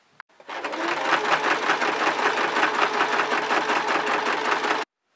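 A sewing machine runs steadily for about four seconds, stitching the bodice of an 1840s-style dress. The whirring motor is loud and close, with a fast stitching rhythm, then stops abruptly.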